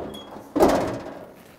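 The trunk of a 1969 Pontiac Firebird is unlocked with a round key and opened: a single close metallic clunk and latch release, followed by a short fading rustle as the lid rises.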